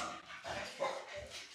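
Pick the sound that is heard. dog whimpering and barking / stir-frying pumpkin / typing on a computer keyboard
dog whimpering and barking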